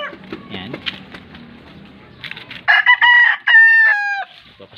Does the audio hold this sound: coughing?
no